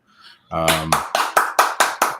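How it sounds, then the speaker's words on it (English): A short burst of hand claps rings out close by during a live online show, about seven quick sharp claps in an even rhythm, preceded by a faint murmur. "Thank you for the clap."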